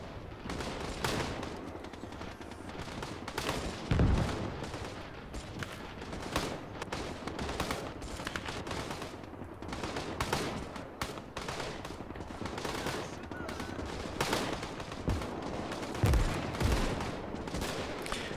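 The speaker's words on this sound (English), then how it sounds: "Probably by the machine gun fire from BTR-60s" Sustained machine gun fire from Soviet BTR-60 armored vehicles in the World War II strategy game Gates of Hell, rapid bursts rattling steadily over a battlefield with occasional heavier thumps, continuous and fairly loud throughout with no talk.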